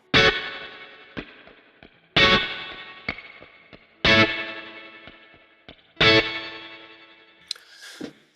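Electric guitar solo tone from a Kemper Profiler, run through spring reverb and a smooth modulation effect: distorted notes struck about every two seconds, each swelling and ringing out in a long shimmering tail, with a few lighter picked notes between.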